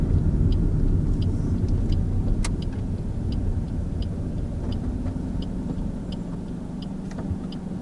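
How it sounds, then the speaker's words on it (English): Car turn signal indicator ticking at a steady, even rhythm, faint clicks over a constant low road and engine rumble inside a moving car. "Pop a left signal on, off the gas."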